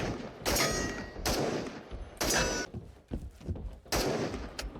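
The FN-17 rifle in the video game Into The Radius fires in three loud, close bursts of rapid shots until the magazine runs dry, with short gaps between bursts.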